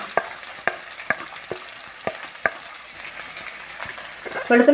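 Crushed ginger and garlic fry in a pan for bilimbi (irumbanpuli) pickle, giving a soft, steady sizzle broken by a series of sharp stirring taps, with a louder crackle near the end.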